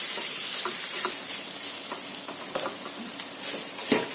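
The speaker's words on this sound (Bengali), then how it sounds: "পেঁয়াজ, রসুন আর কাঁচা লঙ্কা, এই তিনটা আমি একসঙ্গে এখন ভাজি" Chopped onion, garlic and green chillies fry together in a pan for a fish roe paratha, giving a steady, close hissing sizzle with occasional stirring scrapes and no voices.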